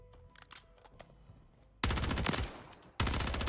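Bursts of rapid automatic gunfire in MW3 Zombies, a short, quiet lead-in giving way to loud, dense firing that stops briefly and then resumes, with no talking.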